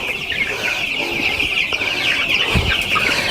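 Two-week-old broiler chicks in a brooder keep up a constant, close chorus of high cheeping and clucking, with faint speech underneath.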